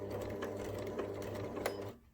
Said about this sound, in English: just do a couple of reverse stitches to start to finish. So go off the end and then reverse.